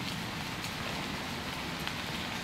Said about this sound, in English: I see rain